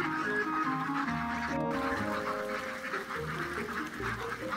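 Ducks quacking, several short nasal calls repeated over a continuous background din, moderately loud, with no one speaking.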